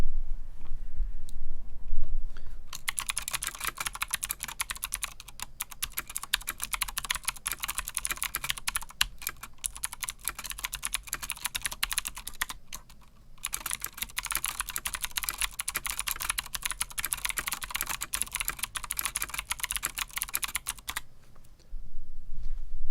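Typing on a Deck 87 Francium mechanical keyboard fitted with aftermarket keycaps, a steady close run of dense key clicks with a brief pause midway and quiet room noise at the edges.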